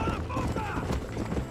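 Horse hooves clip-clop rapidly in a galloping rhythm in the video game Red Dead Redemption, close and clear, with a voice speaking over them.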